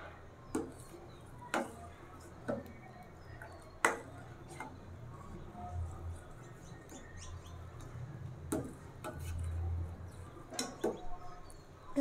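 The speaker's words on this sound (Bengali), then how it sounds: "আর এই তো অনবরত নেড়ে চেড়ে সুজিটা রান্না করছি" A spoon stirs semolina cooking in a pot for a baby's sweet suji dish, giving sparse sharp scrapes and taps against the pot at irregular intervals over a faint, steady low background.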